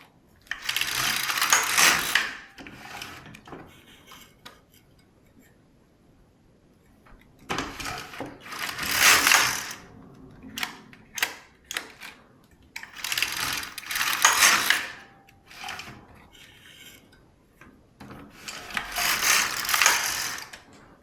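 Carriage of an LK150 knitting machine sliding across the needle bed to knit rows, loud rattling, clicking runs of a couple of seconds each, repeated four times with quieter pauses and small clicks between passes.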